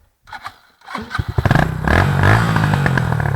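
An enduro motorcycle engine cranks with a few sputters, then catches and runs at a loud, steady rev close by.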